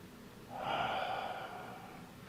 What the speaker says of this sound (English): Breathing in as they float up. Breathing out as the hands float down.